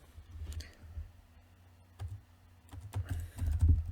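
Someone types on a computer keyboard at close range, producing quiet irregular key clicks and taps in short clusters with no voices.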